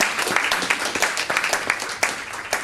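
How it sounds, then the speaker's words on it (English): A small crowd at an evening comedy show claps for a sponsor, a short burst of uneven, distinct handclaps close by, with no talking. "Thank you to Ride Scout for a good round of applause for feeding and drinking us."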